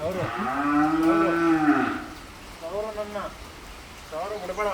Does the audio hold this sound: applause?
no